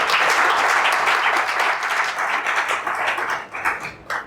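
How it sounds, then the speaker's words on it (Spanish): Loud, dense applause from a conference audience at an AI talk, a sustained crackle of many hands clapping that gradually thins over four seconds into scattered final claps. "Un fuerte aplauso para Xavier."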